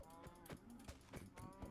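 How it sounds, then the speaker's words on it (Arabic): Repeated cow moos from the video game Minecraft, several short lowing calls spaced through the clip at moderate loudness, with no talking over them. "ها شو بقرة؟ هاي بقرة يعني صح؟"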